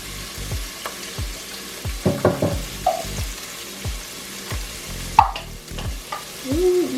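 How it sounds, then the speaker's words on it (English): Homemade pork chops sizzle in hot frying oil, a close, crackling fry broken by utensil scrapes and stirring clatter, growing louder near the end, with no talking. "Or the sizzle?"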